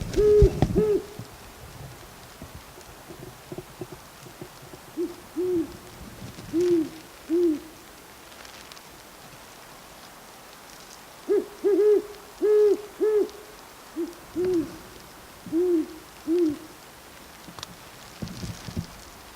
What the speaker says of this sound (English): Nothing like waking up to the sound of a couple of owls arguing.